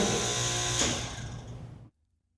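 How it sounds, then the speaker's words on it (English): Standard single-phase 7-horsepower compressor starting without a soft starter, a loud, steady machine hum and whine with strong low tones that holds for almost two seconds and then cuts off abruptly into silence. "The second application is the startup of a standard single-phase 7-horsepower compressor without"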